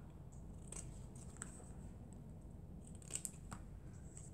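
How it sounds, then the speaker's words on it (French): A pair of scissors snips through an old postage stamp, producing a few quiet, crisp cuts spaced over a few seconds against a soft background hiss, with no talking. "Donc on va couper un vieux timbre."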